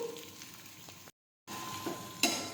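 Okra fries gently in a pan over low heat, giving a soft, steady sizzle with faint stirring and a brief utensil clink, broken by a short silent gap; quiet and close, no voices.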